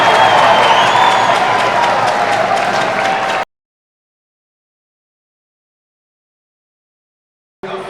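A large ice hockey arena crowd at a Cardiff Devils versus Coventry Blaze game cheers and applauds loudly for about three seconds. Silence follows, then the crowd noise briefly returns.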